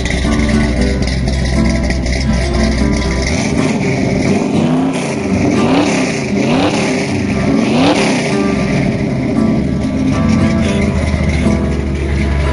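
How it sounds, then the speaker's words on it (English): A 1970 Plymouth Hemi Cuda with side-exit exhaust pipes revs loudly and close up, a steady roaring engine note that swells and falls in several throttle blips over about twelve seconds, with no talk. "Give her a little rev."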